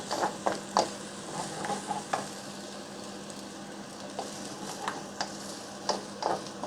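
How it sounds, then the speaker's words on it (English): Egg fried rice being stirred in a pan with two wooden spoons: a steady low sizzle under scattered scraping and clacking strokes, fairly quiet and close, with no talking. "quickly mix around with the 2 wooden spoons"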